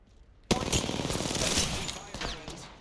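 Gunfire in Apex Legends: a sudden burst of rapid automatic fire kicks in and rattles on continuously, loud and close, with sharp cracks and impacts layered through the volley.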